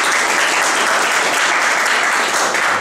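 An audience at the final match of a student blitz chess championship breaks into loud, sustained applause, dense and continuous clapping from a crowd that fills the whole stretch.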